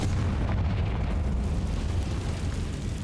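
Fiery explosion spells from the Hogwarts Legacy video game, Bombarda and Confringo, erupting as a sustained, loud, rumbling blast with heavy low-end boom and crackle that fills the whole moment without any voices.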